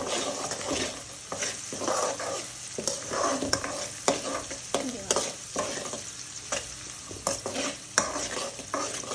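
Brinjal dal is being stirred in a pan, with repeated scraping and clinking strokes in an uneven rhythm over a constant close sizzle.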